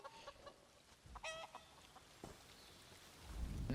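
Chickens cluck briefly in Elder Scrolls Online, a couple of short harmonic clucks over faint game ambience, with a louder low rumble rising at the end.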